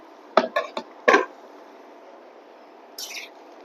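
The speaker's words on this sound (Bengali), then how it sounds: "এবার আমি ঢাকনাটা খুলছি।" A lid is lifted off a cooking pot of thin khichuri with cauliflower and broccoli, giving a few sharp metallic clinks and scrapes close by, then a quiet pause and one last light clatter.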